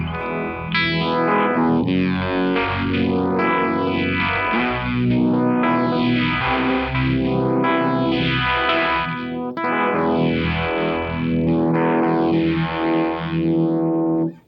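A distorted guitar played through a Keeley Monterey effects pedal, with sweeping swirling modulation and long trailing delay repeats, loud and continuous throughout.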